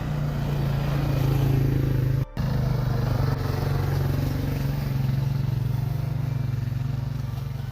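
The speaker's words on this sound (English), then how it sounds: "So Keith is going to tie up the GT behind the four-wheeler and take the kids for a little spin." A four-wheeler ATV pulling a GT snow sled on snow outside a remote Canadian cabin, its engine giving a steady, close, droning hum with a low rumble and a brief dropout.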